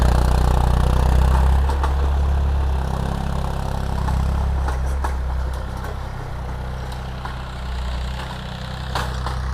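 A steady, low engine rumble from an idling Massey Ferguson 240S tractor, close and loud, with a few faint clicks and knocks over the drone.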